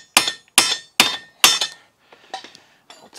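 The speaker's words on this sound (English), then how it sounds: "copper hammer, I've just literally had to be whacking that" Four sharp metallic copper hammer strikes in quick succession on a VW Transporter suspension part during a Bilstein B14 shock fitting, loud and close, followed by a few lighter clinks and taps of metal.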